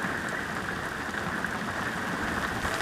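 Heavy rain pours down at a Mogollon Rim campsite, a dense, steady hiss of drops drumming on surfaces, loud and close, with no talking.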